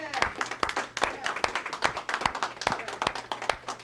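Audience applause for a speaker at a round-table talk on etymology, Egyptian hieroglyphs and biblical studies: dense, steady clapping from a crowd with sharp individual claps standing out, sustained throughout at moderate level, with some voices mixed in.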